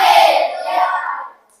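A class of schoolchildren claps in unison for a tepuk semangat chant, a dense burst of hand claps that holds for about a second and then cuts off cleanly, close and fairly loud.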